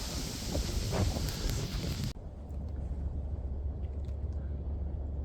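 Strong wind in a wooded park roars and buffets the microphone, loud at first and then dropping to a steady low rumble of gusts.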